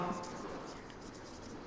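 Pen writing by hand during a Class 10 maths area solution, a faint soft scratching under quiet talk from a teacher.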